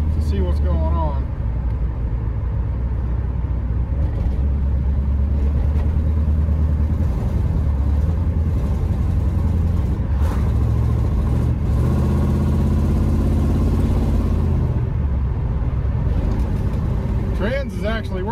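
A straight-piped 1984 Camaro Berlinetta engine drones steadily while driving, a loud raw exhaust note with shifting pitch that stays continuous throughout.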